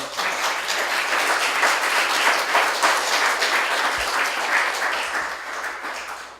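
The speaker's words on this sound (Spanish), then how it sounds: "Démosle un aplauso al Señor" Congregation applauding at a church teaching session, a loud, steady wall of many hands clapping that holds evenly before easing off at the end.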